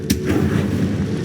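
A Confringo fire-blast spell explodes in the video game Hogwarts Legacy with a sharp, booming burst that rumbles briefly and fades. It sounds close and loud, with no voices.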